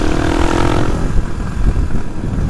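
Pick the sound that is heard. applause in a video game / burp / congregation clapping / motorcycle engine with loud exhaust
motorcycle engine with loud exhaust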